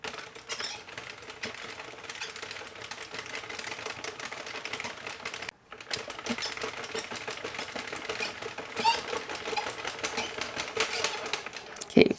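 A Sentro circular knitting machine is cranked through rows of yarn, producing a steady close clatter of rapid plastic clicks with one brief pause midway.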